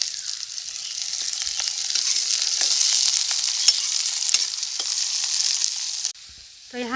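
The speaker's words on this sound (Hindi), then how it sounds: "तो प्याज को हम बहुत ही अच्छे से भून लेंगे।" Onions frying in a pan for a spicy village-style suran vegetable curry, a steady close sizzle with faint stirring scrapes throughout, then a sudden drop near the end.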